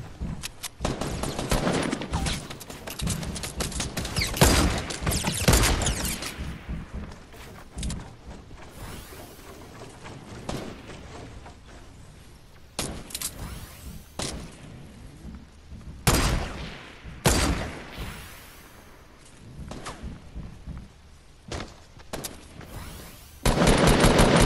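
Gunfire in the Fortnite video game: rapid automatic bursts and scattered single shots, loud and close, in clustered volleys separated by quieter gaps, with mechanical clicks and whooshes between and a final heavy burst.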